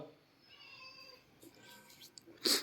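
A pet cat meows indoors, a short, faint, high cry heard between a person's quiet talk, ending with a sharp loud burst.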